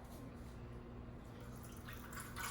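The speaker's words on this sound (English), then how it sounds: "we're going to pour 13 and a half ounces of water" Water pours steadily into a measuring cup while pretzel dough is being prepared, a continuous trickling splash held at close range for a couple of seconds.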